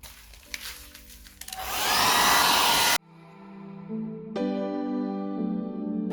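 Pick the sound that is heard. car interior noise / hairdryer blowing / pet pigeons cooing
hairdryer blowing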